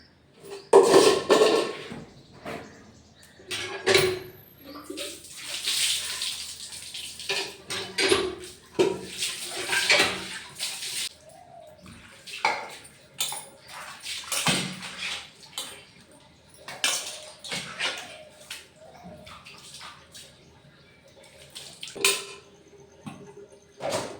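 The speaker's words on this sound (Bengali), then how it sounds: "দেখো থালাবাটিগুলো মজা হয়ে গেছে ধোয়া হয়ে গেছে" Dishes, pots and cutlery clatter and clink under running water in a home kitchen, with bursts of splashing and scattered clanks spread through the whole stretch; no one speaks.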